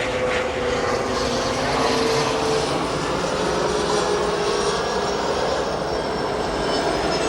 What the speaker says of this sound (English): So American Airlines headed off to Miami, 737 MAX 8.